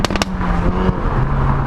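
2019 Hyundai i30N 2-litre hatchback in N mode: a quick cluster of sharp exhaust pops and bangs up front, then a loud, steady engine drone.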